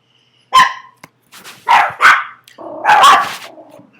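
A dog barks several times up close, sharp loud yaps in quick bursts separated by short pauses, with no talking.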